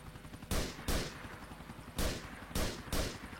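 Gunfire in the video game GTA IV: five loud, sharp gunshot bursts in an uneven rhythm, each decaying quickly over a low steady background rumble, with no talking.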